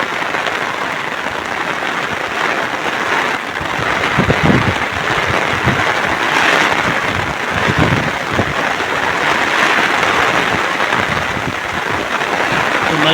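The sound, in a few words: rain falling in the hills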